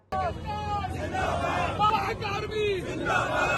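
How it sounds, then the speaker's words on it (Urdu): Protest crowd in Maripur Town, Karachi, shouting slogans together, a dense loud roar of many voices heard close and continuous. "اس موقع پر جہاں شدید نعرے بازی بھی کی گئی، ہم وہ بھی سنواتے ہیں"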